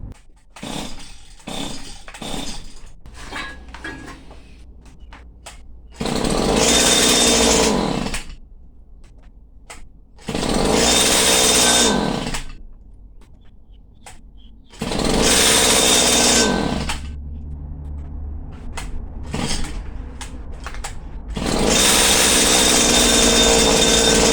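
A petrol string trimmer engine cranks with a few short pulls, then fires and runs in loud bursts of high revving, dropping back to a rough idle between them, close by with no talk.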